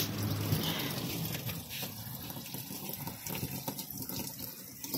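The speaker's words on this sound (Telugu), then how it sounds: "సో వాటర్ అయితే వదులుతున్నాను" Tap water pours steadily into a semi-automatic washing machine at home, a continuous close splashing gush that stays even throughout with no voices over it.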